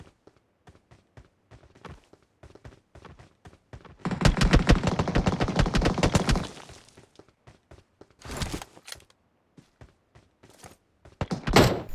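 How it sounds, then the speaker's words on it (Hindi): Gunfire in the PUBG Mobile video game: scattered single shots, then a dense rapid burst of automatic fire lasting a couple of seconds, followed by shorter bursts and isolated cracks, loud and close. "सामने से भी फायर हो रहा था"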